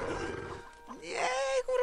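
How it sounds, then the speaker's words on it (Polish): Bears in the Stronghold video game let out a growling roar, a brief wavering cry that rises in pitch and holds near the end, heard close amid a short burst of speech. "Niedźwiedzie atakują twoich poddanych."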